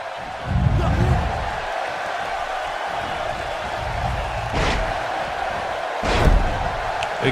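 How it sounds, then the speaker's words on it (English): Neck breaker slam in an amateur wrestling show, several heavy thuds landing over a noisy, roaring crowd, with a loud impact near the start and two more spaced later. "Big neck breaker to the Pizza Man"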